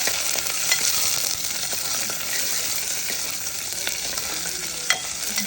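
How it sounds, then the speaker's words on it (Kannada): Onion, mustard seeds and curry leaves sauté in a little oil for a mixed-pulse kalhuli sambar, giving a continuous bright sizzle with scattered crackles and spoon scrapes, close and steady throughout. "ಈಗ ಒಗ್ಗರಣೆಗೆ ಎಣ್ಣೆ ಸ್ವಲ್ಪ, ಸಾಸಿವೆ, ಕರ್ಬೇವಿನ ಸೊಪ್ಪು, ಈರುಳ್ಳಿ ಹಾಕ್ಕೊಂಡು ಸ್ವಲ್ಪ ಬಾಡಿಸ್ಕೋಬೇಕು"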